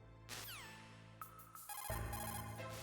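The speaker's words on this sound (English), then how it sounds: "That's not the game, that's my phone." A mobile phone ringtone sounds faintly with a short electronic melody, mixed with video game music and effects playing at the same time.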